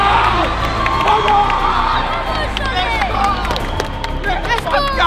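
A crowd of boys at a youth football match cheers and shouts loudly for a player, continuous excited yelling and calls blending into a dense roar, with individual voices rising above the noise.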